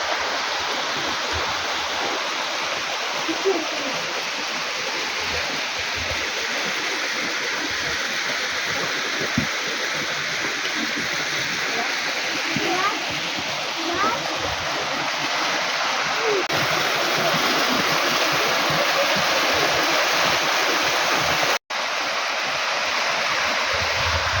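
Steady, loud rush of a waterfall pouring without pause, a broad constant roar filling the scene from start to finish, with a brief dropout near the end.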